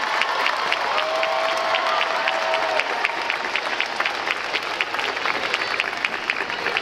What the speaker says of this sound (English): Would you please stand and clap and thank those.